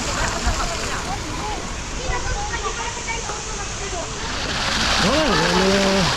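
Broad rushing water fills a water park's lazy river ride at Aqualand S'Arenal in Majorca, a steady splashing wash with voices talking over it throughout.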